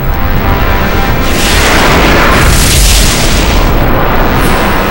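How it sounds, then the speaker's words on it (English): A massive meteorite striking the ground at very high speed, heard as a loud, sustained rumbling explosion with a continuous roaring boom that swells in the middle and holds for several seconds. "sometimes a really big meteorite hits the ground at very, very high speed"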